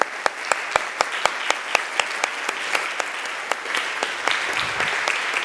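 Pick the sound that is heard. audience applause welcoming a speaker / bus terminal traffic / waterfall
audience applause welcoming a speaker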